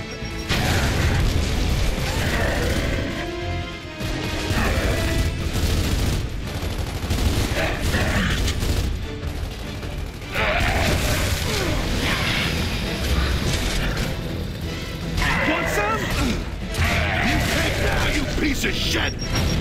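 Loud, busy battle in Gears of War 3 with grenade blasts and booming impacts amid rattling gunfire and clanking mechanisms, a dense, continuous din lasting throughout with brief dips.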